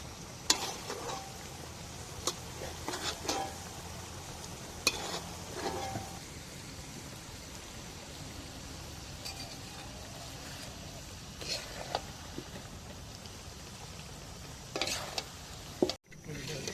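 A whole chicken frying in gravy in a pan, a steady sizzle underneath with scattered scraping stirs and utensil knocks, moderately close, ending in a sharp clatter.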